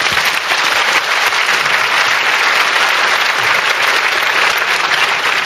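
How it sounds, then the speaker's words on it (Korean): Loud, sustained applause from a large audience at a business seminar with a special guest, thick continuous clapping close by and alone for several seconds. "박수 한번 부탁드립니다."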